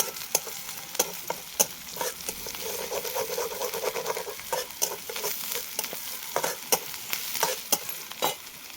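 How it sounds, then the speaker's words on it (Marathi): Chopped onion softening in oil in a pan, a soft continuous sizzle broken by regular spatula taps and scrapes as it is stirred, close and fairly quiet, with no talk. "फक्त मऊ झाला पाहिजे कांदा तेलामध्ये"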